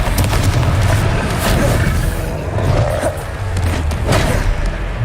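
A Confringo blasting spell explodes in a Harry Potter video game, loud booming thuds and crashes landing in quick succession amid a chaotic, rumbling battle din.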